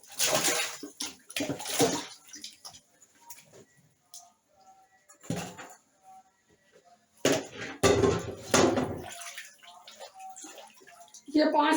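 Pieces of fish are dropped and stirred into a bowl of salted water to soak, giving several close splashing and sloshing bursts separated by quiet pauses.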